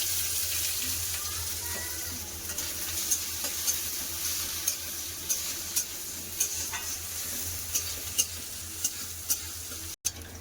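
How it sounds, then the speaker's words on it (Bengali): Chopped onions fry in hot mustard oil over panch phoron and a dried chilli, giving a continuous close sizzle punctuated by regular light scrapes and taps of a stirring spoon against the pan. "আবার পেঁয়াজ দিয়ে দেবো কেটে রাখা পেঁয়াজ"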